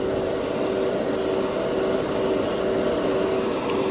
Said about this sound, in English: That's how good this airbrush is.